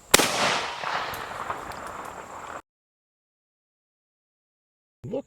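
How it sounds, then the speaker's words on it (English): An SKS rifle fires a 7.62x39 AK-47 round into a hickory target outdoors, a single sharp loud crack that decays into a rumbling echo before the sound cuts to silence. "This is the round that an AK-47 shoots. This is for this SKS. I'll shoot the 5."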